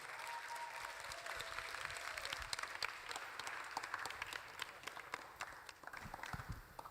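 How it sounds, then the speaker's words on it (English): Loud, thunderous audience applause at an AI impact conference as a speaker is welcomed, a dense, steady wash of many hands clapping for about seven seconds with no talking over it. "with a very loud, thunderous clap, I would like you to make welcome"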